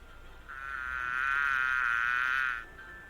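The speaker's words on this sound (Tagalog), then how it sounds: "Yan ay ugong ng isang bubuyog." A single bee buzzes steadily for about two seconds, a loud, droning hum that swells in and then cuts off, with no talking around it.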